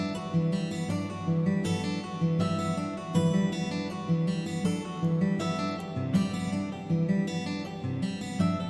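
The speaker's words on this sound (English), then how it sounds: "it's a guitar VST. So that's the guitar, and then I put Quadravox on it" Layered guitar chord notes from a software guitar instrument run through a Quadravox pitch-shifting delay, producing a dense, shimmering, rhythmic texture of repeating plucked tones and echoing harmonies that pulse steadily throughout.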